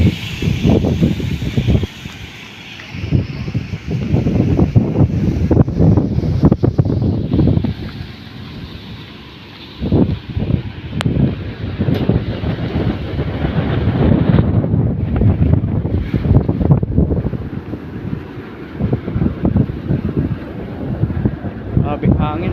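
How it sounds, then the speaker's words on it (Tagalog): Strong seaside wind at Panglao buffets the microphone in a steady, loud roar for the whole stretch, with gusts swelling and easing and a voice occasionally speaking beneath the rumble. "Grabe, lakas ng hangin."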